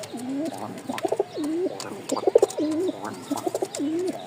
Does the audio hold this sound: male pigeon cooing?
yes